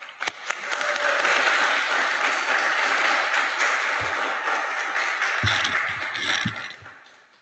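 Sustained audience applause welcoming a speaker at palliative care and geriatric medicine grand rounds in a historic hospital room, a steady dense clapping wash that fades out at the end.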